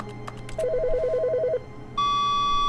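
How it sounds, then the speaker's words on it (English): Telephone in The Stanley Parable video game ringing with a rapid trilling electronic warble lasting about a second, followed after a short pause by a steady, loud, high tone, heard alone without talk. "Is the phone ringing?"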